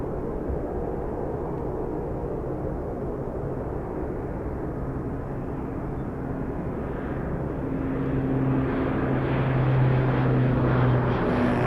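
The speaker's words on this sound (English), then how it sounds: "That was a nice takeoff." A freighter airplane takes off at Anchorage airport: a steady, broad jet roar that holds for about twelve seconds and swells slightly louder toward the end, with no talking.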